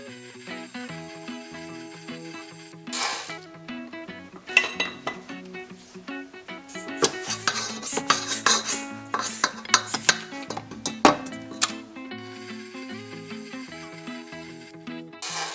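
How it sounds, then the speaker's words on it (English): Flour, salt and baking powder stirred in a bowl for whole wheat tortillas, with close, busy clinking and scraping of a utensil against the bowl in an uneven rhythm, fading at the start and end. "Now I'm just going to mix this around a little bit"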